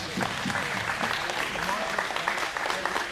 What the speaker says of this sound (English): Let's give Alyssa a round of applause for that also.